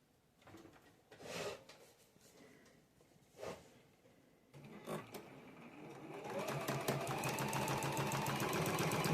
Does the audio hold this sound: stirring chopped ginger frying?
no